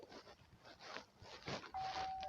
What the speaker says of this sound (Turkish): Aa zil çalıyor.